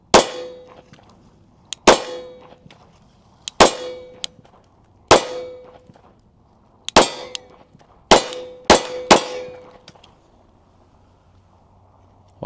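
Shadow Systems pistol rounds strike steel targets, each a sharp crack followed by a ringing metallic clang, about nine hits spaced a second or two apart with a quick cluster near the end, loud and clear.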